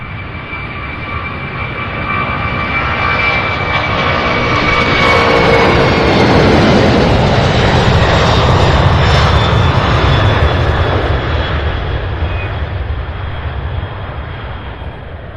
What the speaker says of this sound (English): So, an A300 pushback there.